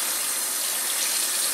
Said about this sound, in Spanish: puedes darle un rápido enjuague con agua muy fría